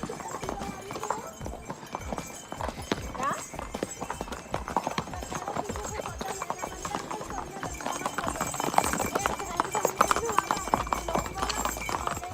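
Horse hooves clip-clop steadily along a trail at Land's End in Nainital during a first-time ride, the rhythmic clopping running throughout with people talking over it.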